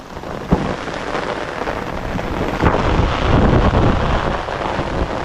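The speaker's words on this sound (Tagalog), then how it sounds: "Lakas pa ng ulan, mga kadidit." Steady, heavy downpour roaring continuously over a tomato field, with gusty wind buffeting the microphone and a couple of sharp knocks.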